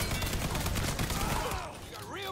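Gunfire in Mafia 3 during a shootout with guards, a dense burst of shots layered into busy game noise that fades toward the end as tonal sounds take over.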